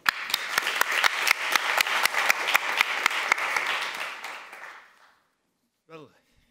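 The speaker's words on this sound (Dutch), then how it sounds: "Geef hem een heel hartelijk applaus, Anton van der Velde." An audience at a Dutch-language talk applauds warmly for about five seconds before the clapping fades to silence, followed by a brief voice.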